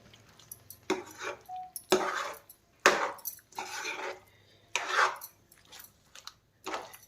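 A ladle stirs brinjal and pea gravy in a pan over a medium flame, giving a series of scraping, sloshing strokes in roughly rhythmic bursts, close and fairly quiet, with no talking.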